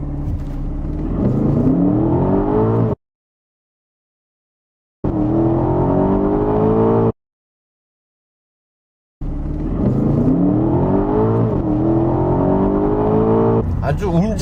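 A 550-horsepower Aston Martin DBX SUV accelerates hard from a standstill to 100 km/h, its engine climbing through the gears with rising revs. Three loud runs are separated by silent gaps, and a voice speaks over them.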